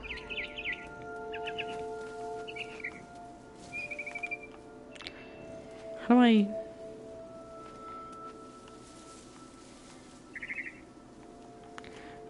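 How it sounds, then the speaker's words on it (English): A barn swallow in the video game What Remains of Edith Finch gives short bursts of high chirps, spread apart and separated by quieter ambient game sounds, with a low-pitched swooping tone and a brief spoken voice partway through. "It was a barn swallow going back to her nest."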